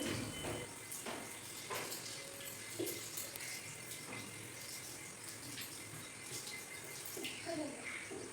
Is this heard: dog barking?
no